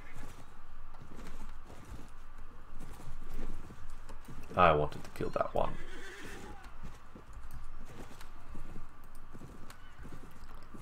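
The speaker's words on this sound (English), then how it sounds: "there are lots of horses running around." Horses in the Mount & Blade Floris battle game gallop with steady clip-clop hoofbeats and let out a sharp, loud whinny midway, while someone talks over the game sounds.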